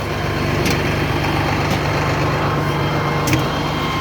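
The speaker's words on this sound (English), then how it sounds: "Let the tractor cool down." A John Deere tractor engine idles steadily at a farm with a baler, its low, even drone holding constant throughout with only faint clicks on top.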